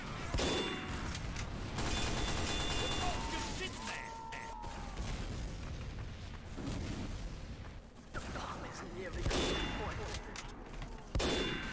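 Sniper rifle shots and headshot hits ring out in Team Fortress 2, several sharp cracks and metallic clangs in quick bursts over busy game noise, with a player talking under the action.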